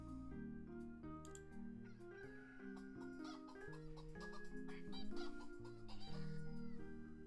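Chicken dance alert on a chat stream: a melodic tune mixed with repeated clucking and squawking hen calls, fairly loud and continuous, with the rhythm picking up toward the end.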